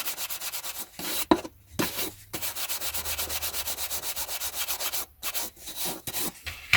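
Steady back-and-forth rubbing along the cloth-bound spine of a first edition hardback book, close and dry, in even rhythmic strokes broken by a few short pauses, with no voices.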